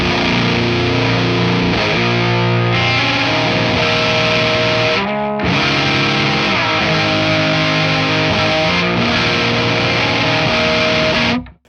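A guitar run through a distortion pedal with warm breakup plays sustained, thick chords and notes, loud and close, with a brief gap near the middle and no talking.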